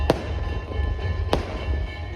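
Firecrackers burst outside the Chehar Maa temple at Gota: two sharp, loud bangs about a second apart over a rumbling crowd background.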